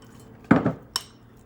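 A raw vegan tuna salad mixture dumped from a blender into a bowl, a single close thud with a brief scrape, followed by a short clink against the bowl.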